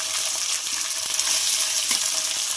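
A spoon stirs a hot tempering into soaked poha with cucumber in a pan, producing a dense, continuous sizzling hiss with soft scraping underneath, close and steady, with no talking.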